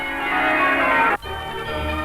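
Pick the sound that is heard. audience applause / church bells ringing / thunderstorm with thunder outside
church bells ringing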